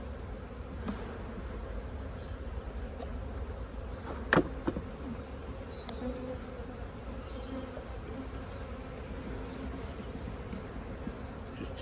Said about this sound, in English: I'm going to shake the bees off other frames